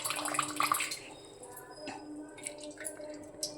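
Water drains and drips from soaked, sprouting green gram in a strainer, close and light, with patters and small splashes fading into occasional drips.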